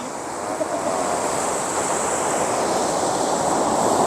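Ocean waves break steadily at the shore during a fishing outing in Pohang, a loud, continuous rushing surf wash with no distinct voices over it.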